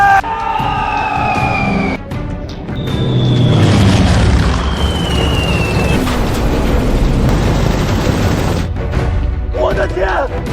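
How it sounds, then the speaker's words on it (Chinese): Bombers dropping bombs in a dramatized wartime village attack, heard as heavy booming explosions under a continuous roar, with high whistling tones sliding down early on and a dense rumble running through the whole stretch. "这不是我们的轰炸机吗？ 为什么会冲着我们投弹？"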